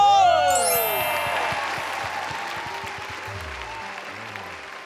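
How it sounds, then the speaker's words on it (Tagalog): Studio audience applause swells with cheering on a live Filipino noontime variety show, loud and continuous, opening over a bright musical sting and fading slowly, with a voice faintly underneath. "Palakpakan mo. na may kasamang sigawan!"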